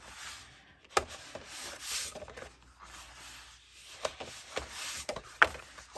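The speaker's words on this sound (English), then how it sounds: "fold and burnish on all your score lines" Paper being folded and burnished along score lines for a handmade folio, soft close rubbing and scraping strokes with a few sharp crisp taps, quiet and intermittent.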